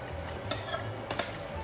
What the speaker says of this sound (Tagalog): So, halo-haluin natin ng ganyan para masuk niya yung sauce.